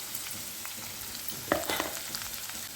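Jackfruit seeds fry in a pan with turmeric, a faint, steady sizzle with a brief clatter of stirring near the middle.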